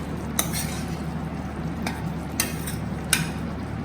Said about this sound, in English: Just stir it a little bit.